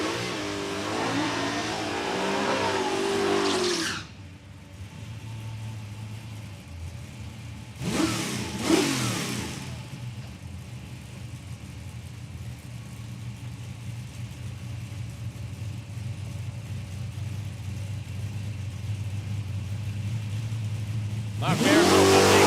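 Drag racing cars at Palmyra Raceway on a road trip drag challenge, a loud engine roaring up to full throttle and cutting off, then quieter rumbling, with another sharp revving burst at the end.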